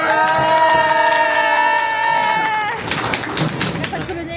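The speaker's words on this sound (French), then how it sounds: "Allez, on applaudit fort." A sustained, wavering tonal sound fades into a crowd breaking into loud, dense clapping with some cheering that carries to the end.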